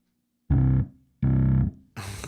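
Heavily distorted bass guitar in a studio recording, two loud fuzzy sustained notes separated by a short gap, then a third brighter, grittier note begins.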